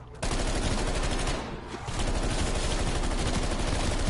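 Dense video game gunfire in Call of Duty multiplayer: a steady, loud stream of rapid automatic shots that dips briefly partway through, then resumes, with no talk over it.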